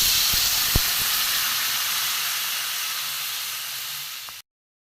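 Water poured into a hot pan of cucumber and vegetables for shukto, giving a loud, steady steam hiss that fades slowly for about four seconds before cutting off abruptly.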